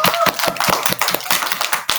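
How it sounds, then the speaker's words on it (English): A class of first graders claps in a quick, uneven rhythm, sharp close hand claps repeating throughout with a voice briefly audible at the start. "Let's give ourselves a big round of applause."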